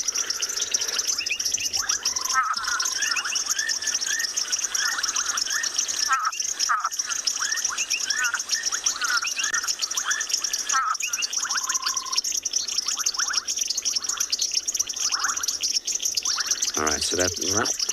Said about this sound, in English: So this is the brownback tree frog.